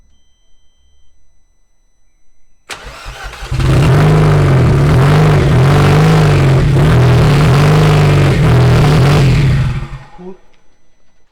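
A rebuilt Audi S3 8L engine cranks and fires, then settles into a loud, steady idle with a rhythmic pulsing that lasts several seconds before dropping away; faint voices can be heard beneath it.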